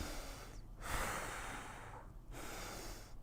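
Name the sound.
deep breath taken through an N95 face mask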